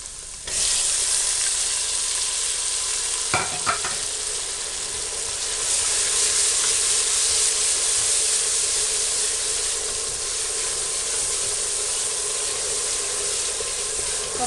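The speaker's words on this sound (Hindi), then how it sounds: "अच्छी तरह से भुने के टमाटर गल जाएं।" Tomatoes fry in a hot pan with chili and salt, giving a steady, loud sizzle that holds through the whole stretch, with a brief stirring scrape near the start.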